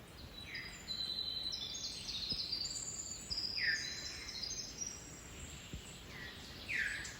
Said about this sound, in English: But there's some nice birds singing here.